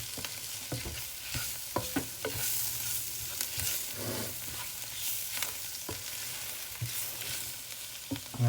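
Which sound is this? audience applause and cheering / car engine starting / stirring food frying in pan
stirring food frying in pan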